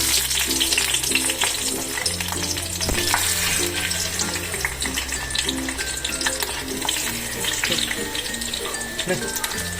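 Ingredients sizzle and crackle in hot oil in a kadai while mango chutney is being made, a dense, steady frying hiss with a low hum underneath throughout, close and moderately loud.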